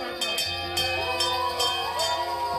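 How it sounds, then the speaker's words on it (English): A hand bell rung to mark the end of a child's leukemia treatment at a hospital gives a few bright, ringing strikes in quick succession, each one sustaining and overlapping, clear and close. "Let's hear you ring this bell 3 times strong."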